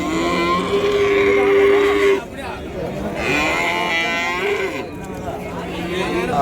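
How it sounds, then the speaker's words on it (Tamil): Jersey cows at the Kundarapalli native cattle market in Krishnagiri district give loud, drawn-out moos, several overlapping calls close by, with market voices murmuring underneath. "இந்த மாதிரி சின்ன சின்ன கொஞ்சம் மீடியமான சைஸில் இருக்கிற ஜெர்சி மாடுங்கள்லாம்"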